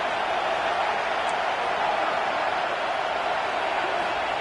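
A football stadium crowd roars steadily on a 4th down play, a dense, loud, unbroken wash of distant voices with no distinct words.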